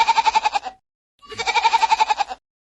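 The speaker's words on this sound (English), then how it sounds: "Goat." Goat bleating twice, each a loud, close, quavering call with a rapid pulsing tremble, separated by a short pause.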